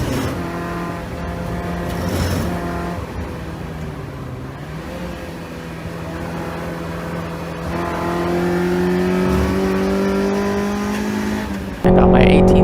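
A race car takes a sequence of track turns at speed, its engine droning loud and steady, dipping under braking then climbing in pitch as it accelerates out, ending with an abrupt louder burst.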